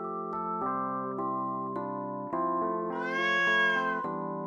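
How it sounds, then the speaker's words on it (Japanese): A cat meows in the video game Colorful Stage, giving several sustained, tonal mews in a row over a steady musical backdrop, with one longer, higher call near the end; nobody speaks. "猫の声？"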